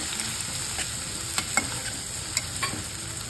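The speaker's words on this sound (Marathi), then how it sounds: "थोडीशी याच्यामध्ये परतून घ्यायची." Soaked mixed moong and toor dal sautés in a hot pan, a constant fine sizzle with scattered spatula taps and scrapes, close and steady with no voices.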